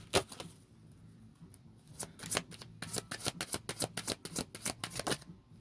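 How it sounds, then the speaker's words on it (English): Tarot cards riffled and shuffled by hand in a quiet room, a soft stretch of handling giving way to a rapid run of crisp, clustered card flutters that grow busier toward the end. "I'm going to shuffle one more time."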